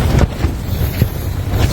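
Strong, gusty wind buffeting a tent campsite as a rainstorm moves in, a loud, continuous roar of low rumbling with surges of broadband noise hitting the microphone, and no voices.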